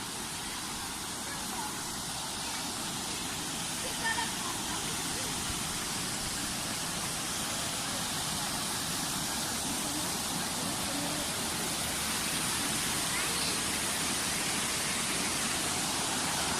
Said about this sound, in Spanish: La famosa cascada de los chorros de Vijuesca.